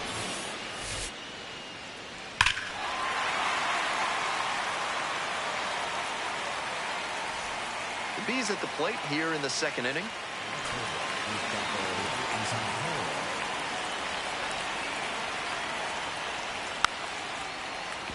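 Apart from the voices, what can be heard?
rain falling on a baseball stadium, from MLB The Show 26 video game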